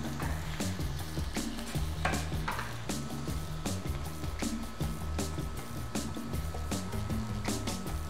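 Food browns in a hot pan on an Adventys induction hob, a steady dense sizzle with frequent scraping and clinking of a large spatula stirring throughout.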